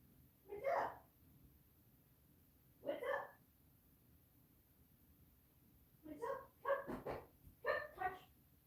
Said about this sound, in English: sorry, dog's barking again